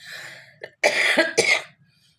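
A few sharp coughs close up, a short hack followed by two harsher bursts, then quiet.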